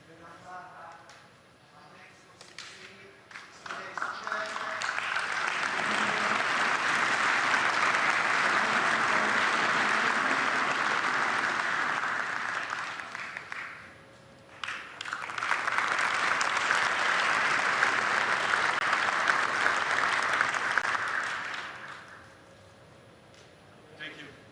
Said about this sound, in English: Big round of applause to Pierluigi Collina, please.